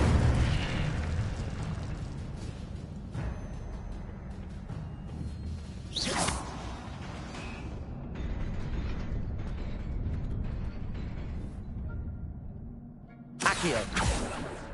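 Hogwarts Legacy's Incendio fire spell bursts out as a sharp whooshing flare around the midpoint, with another loud blast near the end, amid rumbling game ambience.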